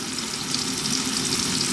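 Onion, garlic, olives and jalapenos frying in oil for a tuna mushroom tomato baked pasta, a loud, dense, continuous sizzle close up with no voices.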